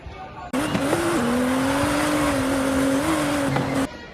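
A car brakes hard to a stop with its tires skidding, a loud, steady squeal that lasts about three seconds with a pitch that wavers slightly, then cuts off abruptly.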